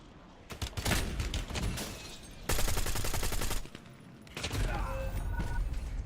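Pistol shots in Call of Duty Warzone ring out in several loud bursts of rapid gunfire, with a brief lull between volleys and some mechanical clatter, no talking over them.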